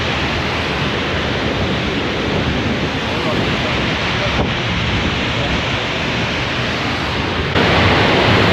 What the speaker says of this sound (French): En tout cas, on voit bien la cascade au moins.